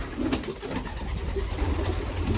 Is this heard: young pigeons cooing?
yes